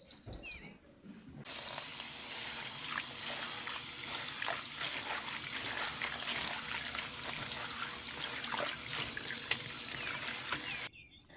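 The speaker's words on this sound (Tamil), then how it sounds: "கீரை மட்டுங்க நல்லா ஒரு பெரிய பாத்திரத்தில் நல்லா தண்ணி ததும்ப ஊற்றி அலாசணும்" Fresh garden greens being rinsed in a large vessel brimming with water: running, splashing water with trickles and sloshing that holds steady throughout, close and moderately loud, without speech.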